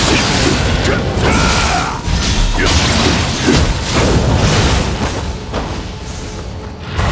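Giant rolling wheel crashing through a level in Nioh 2, a dense continuous rumble of heavy mechanical clatter and impacts, loud and close, slightly easing toward the end.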